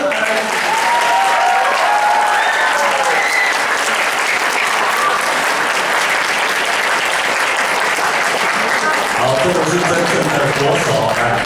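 A crowd at a friendly tug-of-war match applauds loudly and continuously as the Jingmei team enters, a thick, sustained roar of clapping with a voice speaking over the final seconds.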